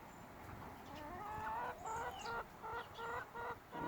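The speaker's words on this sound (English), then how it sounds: "That's a black Copper Maran." A black Copper Marans chicken in a garden flock gives a series of close, short clucks and soft calls, repeating in uneven bursts over a steady background murmur of other birds.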